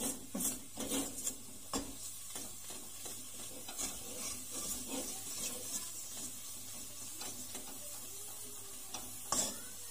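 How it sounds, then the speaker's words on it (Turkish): Steady stirring and scraping of a thick milk dessert mixture for supangle-topped tavuk göğsü as it cooks in a pot, with irregular spoon knocks against the sides and a faint sizzle, close and moderately quiet. "Bu şekilde kavuralım. Tenceremiz kenarını şöyle bir toplayalım."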